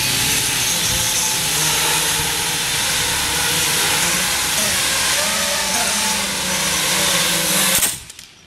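A small drone hovers in the dark, its steady high-pitched propeller whine and hiss holding loud and constant for several seconds before cutting out abruptly near the end.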